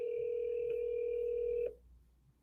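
A telephone call-back tone sounds as one steady electronic tone, close and alone. It is cut off abruptly partway through and followed by quiet.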